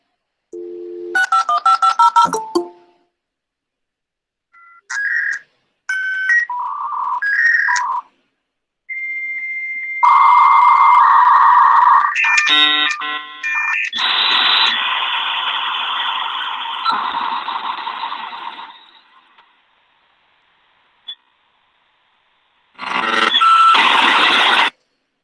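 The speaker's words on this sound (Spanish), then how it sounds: "Ese era el módem." A dial-up modem dials and connects: quick touch-tone digits, then loud screeching handshake tones, hissing static bursts and sustained carrier noise, with pauses in between and a final burst of noise.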